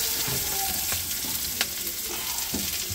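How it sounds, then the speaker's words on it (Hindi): Ginger and garlic fry in oil in a wok, giving a steady, moderately loud sizzle with a few sharp spoon clicks and stirring scrapes. "इसमें अदरक और लहसुन डाल देता हूँ खड़ा हुआ, ये देखो ये फ्राई हो जाएगा"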